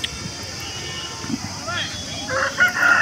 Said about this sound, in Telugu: బాగా ఎత్తురుకాళ్ళు ఉన్నటువంటి కోడిపుంజు.